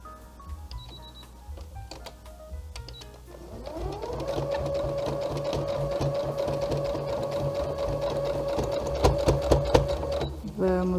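A domestic sewing machine runs steadily for several seconds, stitching a fabric zip pouch, a loud continuous motor whine with rapid needle clatter, starting and stopping around brief handling noises, with someone talking before it starts.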